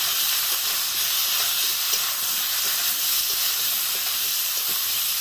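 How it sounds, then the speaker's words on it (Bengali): Cut potato and eggplant, salted, fry in a pan for a koi fish curry, making a loud, dense, unbroken hiss of hot oil that stays even from start to finish. No voices are heard. "এবার আলু বেগুনটাকে খুব ভালো করে আগে ভেজে নেব।"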